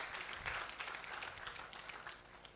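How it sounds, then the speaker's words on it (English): Audience applauding at a graduation ceremony, a steady patter of many hands clapping, fairly faint and distant, sustained throughout without speech. "I think they deserve a round of applause."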